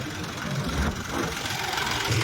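A low, steady tractor engine idles close by in a farm field, its rumble even and continuous with a faint rattling knock throughout.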